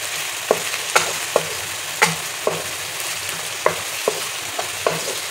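Small tomatoes go into a pan of frying chana daal and get stirred. A spoon knocks and scrapes the pan in a loose, repeated rhythm over a steady close sizzle, and no one speaks.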